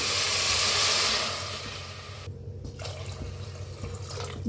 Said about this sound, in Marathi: तांबे पाणी ओतले, वर झाकण लावून 2 शिट्या करून घेऊया।